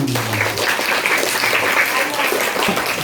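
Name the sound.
audience applause for Om Edi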